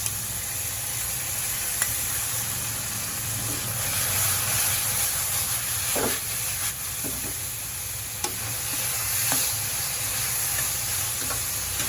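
Chicken breast and tomatoes fry in a pan, giving a steady close sizzle and hiss with occasional stirring clicks and scrapes against the pan.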